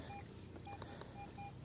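A metal detector sounding target beeps while searching by a reservoir, several short steady tones in quick succession, faint against a quiet background hiss.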